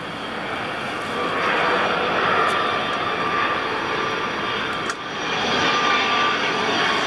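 Loud fixed-wing aircraft roaring overhead near an airport, a steady broadband engine rumble with a brief dip before swelling again, close and dominant throughout with no talk.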